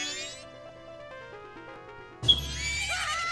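A horse in The Legend of Zelda: Majora's Mask whinnies loudly, a bright sharp neigh breaking in after a few seconds of soft melodic music.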